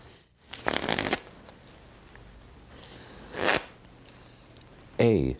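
Playing cards riffle in a few quick shuffles, crisp and close, separated by short pauses of quiet.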